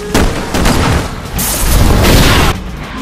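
Gunfire in the Resident Evil 6 video game: a loud, dense run of booming shots and blasts lasting about two and a half seconds, then cutting off abruptly.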